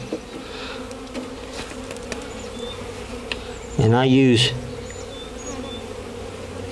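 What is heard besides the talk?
honeybees buzzing in hive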